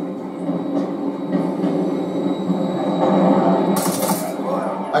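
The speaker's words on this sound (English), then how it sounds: "I heard a train going on there" Train passing in the video game Call of Duty Modern Warfare III, a steady loud rumbling roll with a bright metallic clatter burst near the end, under faint game sounds and a brief voice.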